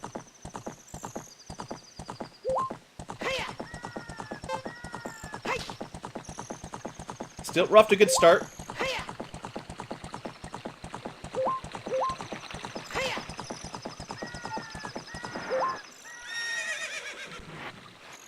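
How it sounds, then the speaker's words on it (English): A horse in the video game Zelda: Ocarina of Time gallops with rapid, rhythmic hoofbeats throughout, breaking into a loud neigh midway and a short whinny near the end, while someone talks briefly over it. "I whipped my horse too long."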